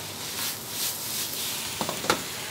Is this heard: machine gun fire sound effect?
no